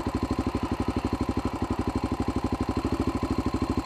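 A dual sport motorcycle engine idles at a camp while its mixture screw is adjusted, a close, steady, rapid thumping pulse that barely changes in pace.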